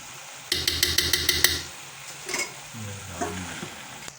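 Carrot halwa with homemade khoya being stirred in a pot, a quick run of rhythmic scraping clinks of a spoon against metal, then softer sizzling and scraping.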